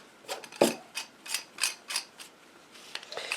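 Plumbing parts for a lightsaber hilt being screwed together by hand, a series of quiet scraping, ratcheting twists in short rhythmic bursts, close and faint.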